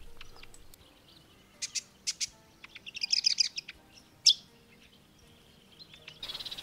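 Red-capped robin at a bush waterhole, giving short high chirps and a quick trill, with a brief sharper call, against a quiet background and no voices.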